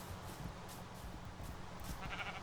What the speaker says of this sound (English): A white sheep with a baby black sheep.